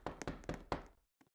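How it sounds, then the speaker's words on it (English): Firm knocking on a door: four loud raps spaced about a quarter second apart, then two faint, quick taps after a short pause, with no voices. "I heard a knock."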